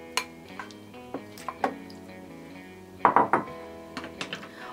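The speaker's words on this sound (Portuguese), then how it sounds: "Aí aqui na panela acrescentamos o nosso franguinho." Chicken pieces dropped into a rice cooker pot for takikomi gohan, a series of soft knocks and clinks, a sharper cluster near the middle, close and quiet with no speech.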